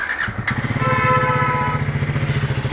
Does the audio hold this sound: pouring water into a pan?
no